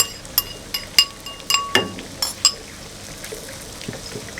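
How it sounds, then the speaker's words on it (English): Spring onions are dumped into a cooking pot, marked by a quick run of light clinks and taps against the pot and utensil over a few seconds, followed by a quieter stretch. "Up next we have our spring onions. I'm just gonna dump all this in there."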